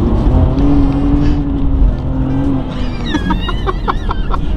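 A BMW M2 Competition fitted with a Remus exhaust roars loudly and close, heard from inside the car as a steady engine drone, with higher rising tones toward the end.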